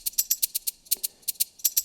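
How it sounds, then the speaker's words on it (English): A second shaker sample in an afro house track built in Logic Pro X: bright, crisp shakes in a quick uneven groove, about a dozen strokes over two seconds, alone and fairly soft. "Then I added a second shaker"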